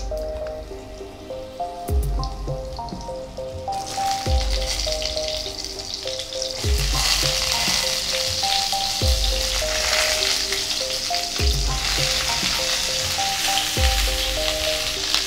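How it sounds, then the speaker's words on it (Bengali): Pointed gourd pieces drop into hot mustard oil and fry with a loud, bubbling sizzle that swells over the first seconds and continues steadily, while soft rhythmic music plays underneath. "তেল গরম হতে শুরু করে দিয়ে দিচ্ছি পটলগুলো"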